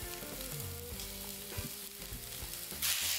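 Bean sprouts with soy sauce being stir-fried in a pan for yakisoba, a steady close sizzle with clanking stirring strokes and a louder hiss surge near the end.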